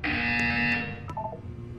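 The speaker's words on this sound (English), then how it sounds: "You will hear a buzzer." An electronic buzzer in the Roblox horror game Horror Hotel sounds as one loud, steady tonal drone for under a second, then cuts off and leaves a quieter blip and faint hum.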